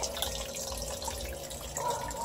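Water taken from a fish tank is poured out into a drain pipe that feeds a jabuticaba tree, a steady close trickling and dripping of liquid with no talking.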